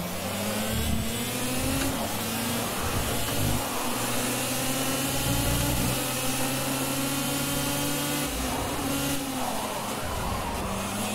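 Kart engine accelerating in the Project Cars racing game during a UK kart championship race, a continuous buzzing drone that rises and shifts pitch as it revs, steady and loud with no talking.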